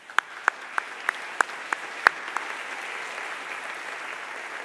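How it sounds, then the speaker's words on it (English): Audience applause at an academic convocation: a hall full of people clapping steadily, a few sharp close claps standing out at the start before settling into an even, moderately distant wash of applause. "Let's give them a round of applause."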